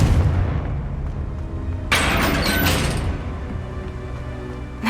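A Confringo fire-blast spell explodes in the video game Hogwarts Legacy, a sudden bright boom cutting through a low rumbling backdrop, ringing briefly before fading back into the ambience.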